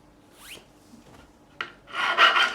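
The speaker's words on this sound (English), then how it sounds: "Again, profiling file." Profiling file rasping along the fret edges of a replacement neck on a Japanese Strat-style guitar, a few short, faint strokes followed by a louder, sustained rough scrape, alone and close.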